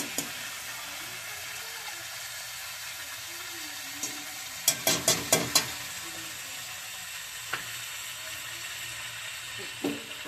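Chicken pieces fry in butter over a low flame, a steady soft sizzle close by that is broken now and then by sharp clinks and taps of a utensil against the pan, including a quick cluster of several knocks midway.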